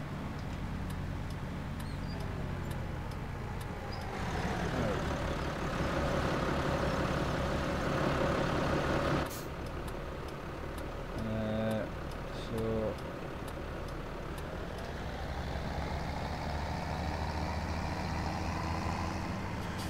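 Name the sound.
tractor driving in video game Farming Simulator 2017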